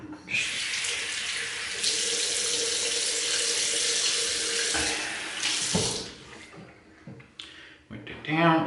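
Water runs from a bathroom tap as a razor is wetted during a wet shave, a steady close hiss of flowing water for several seconds before it shuts off amid brief handling sounds.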